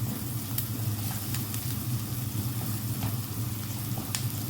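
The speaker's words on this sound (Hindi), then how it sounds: "इसको मिक्स कर देंगे, थोड़ा सा भूनेंगे 1 से 2 मिनट के लिए।" Chopped garlic frying in a pan while being stirred for lasagna, a steady soft sizzle with faint scraping clicks throughout, no talking.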